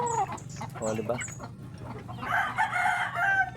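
Chickens cluck close by, then a rooster crows loudly toward the end, with a person talking briefly over the birds.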